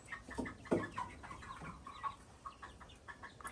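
Bielefelder chickens cluck softly and intermittently, low murmuring clucks scattered through a quiet background, with no voices.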